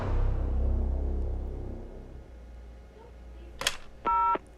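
In the horror video game Mr. Meat, a phone is dialed to call the police: a click and then a short, clear electronic dial tone near the end, after a low fading rumble.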